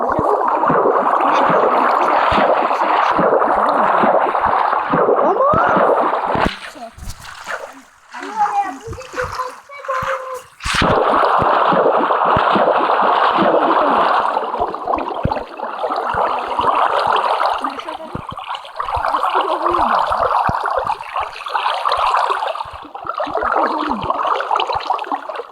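Flowing water in Minecraft Pocket Edition, a steady rushing wash through most of the stretch with a brief break in the middle, under children's voices talking.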